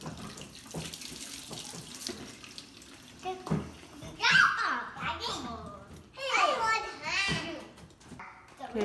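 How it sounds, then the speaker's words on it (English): Water runs from a kitchen sink tap as hands are rinsed during home baking, a steady close stream under the voices of children talking nearby. "Yeah, rinse your hands while I continue."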